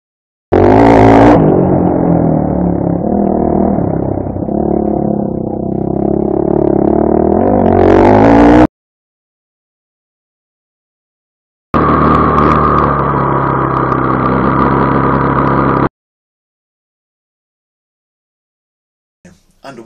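A trail bike's engine captured by an SJCam SJ4000 action camera while riding, loud and close with revving and throttle changes, cutting out, then a second steady burst of engine drone before near silence.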